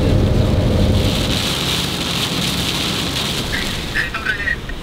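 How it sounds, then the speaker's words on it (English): Steady rain and gusting wind roar close to the microphone throughout, a dense wash of noise with some faint voices near the end. "It's so windy and rainy."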